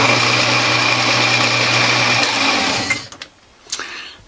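A lathe spindle spins with a steady, high mechanical whine for about three seconds, then a disc brake caliper clamps on and the sound drops away, leaving a few short clunks and squeals as it stops.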